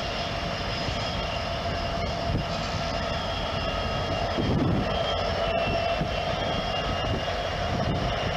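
Canadian National freight train hauled by BNSF locomotives rumbles steadily at a steel plant in Pekin, Illinois, a loud, continuous diesel drone with a constant mechanical whine and no talk.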